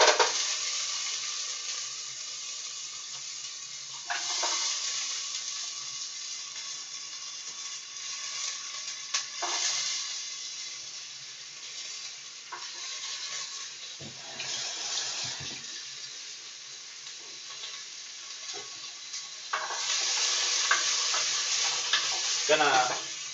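Onions, carrots and tomatoes fry in a pan with a steady close sizzle, broken by bursts of louder hissing and stirring as ingredients are moved around.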